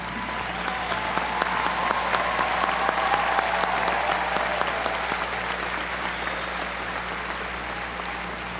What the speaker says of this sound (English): please join me in recognizing them with your applause for their contribution